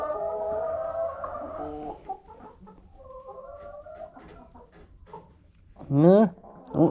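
Chickens cluck and squawk nearby around a farm during corn shelling, with a louder burst of clucking near the end and a person talking quietly in between.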